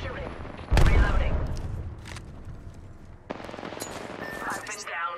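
Gunfire in Apex Legends, a loud burst of rapid shots followed by a decaying rumble, then a second sharp volley of crackling fire under faint game sounds.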